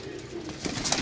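Sialkoti pigeons coo softly and close by in a brief low burble, rising a little louder toward the end.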